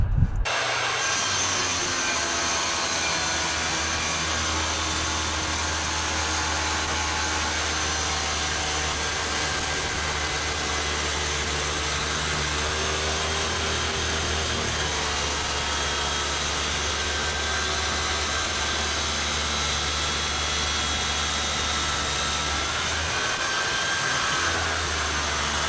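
RIDGID 7-inch wet saw cutting porcelain tile, a loud, continuous motor whine with a gritty grinding layer that holds steady for the whole cut before the blade spins down at the end.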